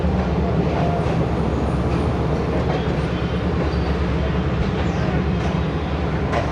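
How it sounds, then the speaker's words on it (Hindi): Shalimar Express train rolling slowly through Khanewal Junction in Pakistan, a steady loud rumble of wheels and carriages heard from on board, continuous for the whole stretch with no talk. "खानेवाल जंक्शन से आहिस्ता आहिस्ता गुज़रते हुए, स्टॉप नहीं है इधर।"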